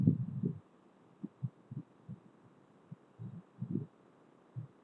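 A heartbeat sound effect from the horror video game Granny thumps in soft, low double beats at a steady, unhurried pace, heard alone over a faint background hum.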